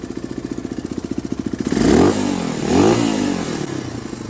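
A Yamaha Raptor clone ATV engine idles with a fast, even putter, then revs up twice in rising swells before settling back to a rough idle, close and loud with no talk.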